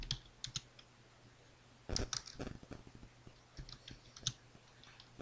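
Typing on a computer keyboard, faint irregular key clicks in short scattered bursts, with a busier cluster of taps in the middle, over a quiet low hum.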